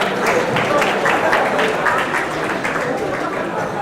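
Lecture audience applause at a talk on nuclear power, a steady, dense wash of many hands clapping from a large hall crowd, continuous and fairly loud throughout with faint murmuring beneath.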